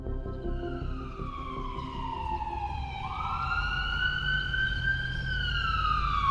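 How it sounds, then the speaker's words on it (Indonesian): Rising and falling wail of an ambulance siren near a school, loud and continuous throughout with steady road rumble beneath, the pitch sweeping upward midway as it passes. "Itu ambulan dari sekolah kan?"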